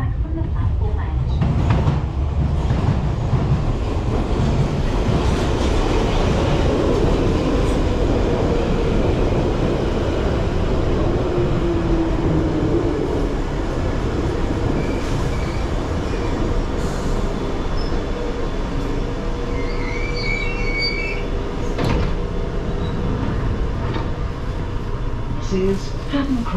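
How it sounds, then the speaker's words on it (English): A London Underground Piccadilly line train rumbles at Hatton Cross station, with a steady loud roar of wheels and motors and faint squeals, while platform announcements play over the noise. "This is a Piccadilly line service to Cockfosters."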